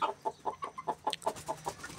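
Desi (native) chickens cluck in a steady run of short, close calls while eating grass, one every fraction of a second, with a brief higher squawk partway through.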